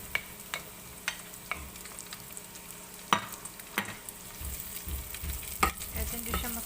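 Onions sauté in a pan for spicy Bicol Express laing. A low, quiet sizzle carries on underneath, broken by a scattered handful of sharp clicks and taps from a utensil against the pan.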